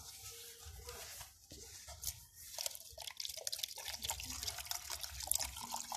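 Water is poured onto plants, giving faint, uneven trickling and dripping that grows busier toward the end. There is no talking.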